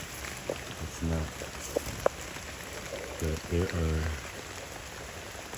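Rain falls over an orchid collection as a steady broadband hiss, with a person talking briefly through it.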